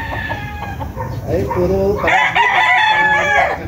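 Yellow-legged gamecocks and bullstags at a sale crow loudly and cluck nearby, overlapping calls rising in the second half, with a person speaking briefly.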